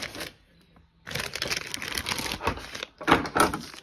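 Cutting open an Amazon package with a handheld cutting tool: a quiet pause, then a run of close, dense scraping and crackling bursts of cardboard and tape as the blade goes in, ending in a few louder tearing strokes.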